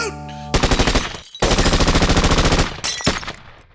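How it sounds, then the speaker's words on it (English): Machine-gun fire sound effect in an old radio drama about The Shadow. Rapid, loud bursts of automatic shots come in three rattling volleys, with short gaps between them. "Spike, you shot out the lights."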